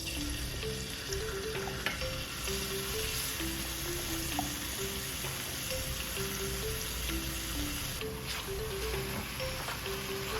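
Bacon sizzling in garlic-infused olive oil in a pan for a pepetama pasta, a steady, dense, even crackle and hiss throughout, close and loud, with no talk.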